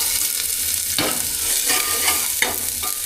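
Chopped onions sizzle loudly in hot oil inside a pressure cooker, a close, constant crackling fry with a few sharp scrapes of stirring.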